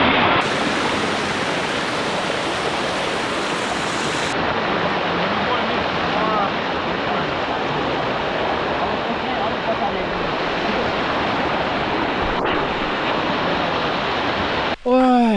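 Hot spring water pours and gushes continuously at a close distance, a dense, steady rushing roar with no break, ending with a brief faint chirp-like sound at the very end.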